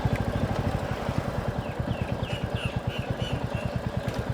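A new Royal Enfield Bullet motorcycle engine runs with a loud, steady, rapid thumping beat, close by and alone, without talk.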